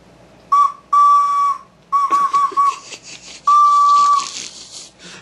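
A person whistles loudly and close up in several sustained single-pitch blasts with short gaps between them, with no talking.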